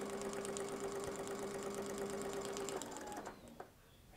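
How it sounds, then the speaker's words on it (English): A sewing machine stitches quilt pieces in a steady, continuous motor whir that runs for nearly three seconds, then stops and gives way to quieter handling noises. "And then backstitch just a little bit."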